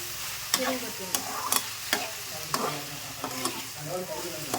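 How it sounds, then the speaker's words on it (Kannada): Turmeric powder and capsicum frying in oil in a pan, stirred with a spatula: a continuous sizzle under regular scraping strokes about every half second, close and clear, with no voices. "ಕ್ಯಾಪ್ಸಿಕಮ ಈ ರೀತಿ ಎಣ್ಣೆ ಫ್ರೈ ಮಾಡಿ ಪಲ್ಯ ಮಾಡೋಣ"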